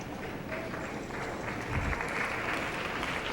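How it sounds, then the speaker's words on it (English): Steady, moderately loud audience applause in a large arena at the 1999 World Championships team competition in Osaka, a dense wash of clapping holding throughout with a brief low thump near the middle and no talk over it. "Sympathetic applause."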